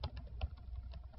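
Quiet, quick keystrokes on a computer keyboard as an email address is typed, roughly a dozen light taps in an uneven rhythm with no talking.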